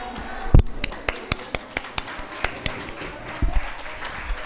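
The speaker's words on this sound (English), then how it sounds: "Yes, applaud yourself." A luncheon crowd gives a short, thin round of applause, a handful of distinct separate claps spaced out over a few seconds in a fairly quiet room.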